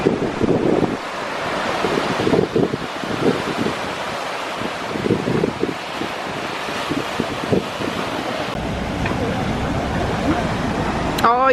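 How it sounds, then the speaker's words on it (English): Rough Caribbean Sea waves surge and crash below the Tulum cliffs on the Yucatan coast, a continuous rushing roar of surf mixed with heavy wind buffeting the microphone, with people talking over it. "Look at those waves coming in so fast."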